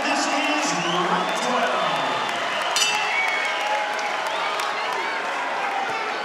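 A boxing arena crowd at a WBC featherweight title bout cheers, whoops and applauds before the twelfth and final round, a steady loud roar with an announcer's voice over it.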